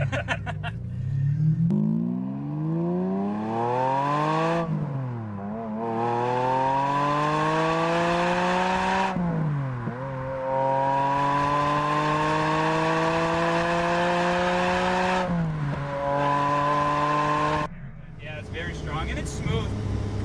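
A manual V12 Ferrari accelerates hard through several gears, its engine note climbing steeply in pitch, dropping sharply at each shift, then rising again, loud and close from inside the car.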